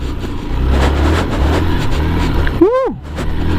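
Hero X-Pulse 200 motorcycle ridden off-road, a close, throbbing single-cylinder engine note that rises and falls with throttle, ending in a sharp rev sweep up and back down.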